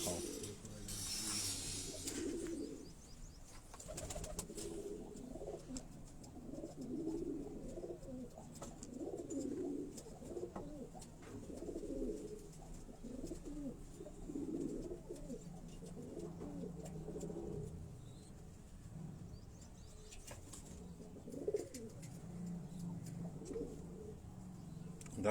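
Kasuri pigeons of a champion breeding line coo in repeated low, throaty phrases at close range, a steady run of rounded calls through most of the stretch with faint background noise.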